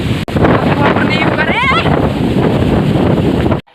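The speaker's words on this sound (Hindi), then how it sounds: "बहुत हवा आ रहा है, हवा हवा ठंडी ठंडी हवा आ रहा है" Strong cold wind buffets the microphone in a steady loud roar during a rainy spell, with a person's voice briefly rising partway through.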